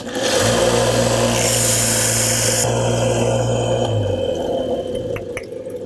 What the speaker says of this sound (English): I'm gonna go trim it off on the bandsaw